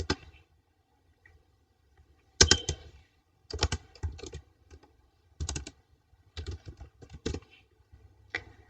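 Keystrokes on a computer keyboard as a folder name is typed, in short clustered bursts of crisp close clicks separated by brief quiet pauses.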